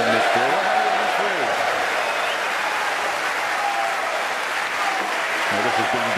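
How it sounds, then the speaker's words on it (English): Snooker crowd applauding steadily at the 2017 Masters during a break in a deciding frame, a dense continuous clapping that fills the whole span, with a commentator talking over it. "I think they're just going to keep on clapping all the way through this break."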